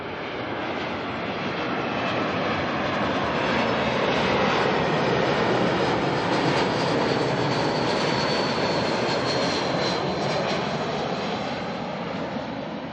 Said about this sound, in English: Qantas is going to have to wait because NZ14 from Wellington is coming